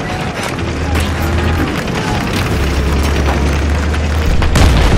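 An explosive detonation in the video game Battlefield 3 is heard as a loud, continuous roar of booming rumble that fills the whole stretch with no pause, with faint crackling bursts on top.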